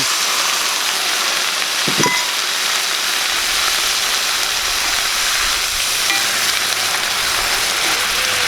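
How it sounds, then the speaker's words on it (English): Red wine hitting a hot pan of softened vegetables for Hunter's Chicken, giving a steady, even sizzle and hiss that holds at a constant level throughout, with one brief clink near the start. "I'm going to deglaze that with 1 cup red wine"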